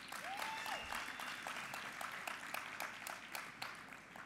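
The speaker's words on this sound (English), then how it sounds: "Can we give them a round of applause?" Audience applause at a Randwater annual award ceremony, a steady wash of clapping hands through the whole stretch, with a faint whistle early on.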